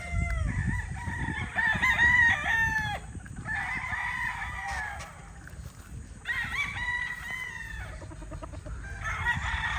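Gamecock roosters crow repeatedly in several long, strained calls, with clucking and low farmyard rustle in between, close by and loud.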